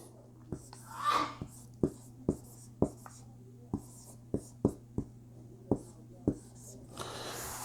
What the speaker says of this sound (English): So I'm going to write that down on the board.